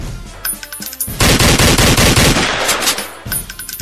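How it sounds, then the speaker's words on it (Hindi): Loud automatic gunfire erupts in a rapid, sustained burst of close cracks lasting around two seconds, with a few scattered shots and voices around it before and after. "उधर से फायर हो रहा है।"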